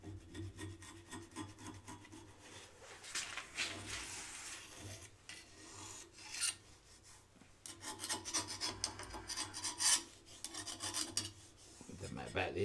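Glue is scraped off a lathe's tool rest in a woodturning shop, with uneven bursts of rasping, filing-like strokes that come and go and grow busier toward the end, fairly quiet and close.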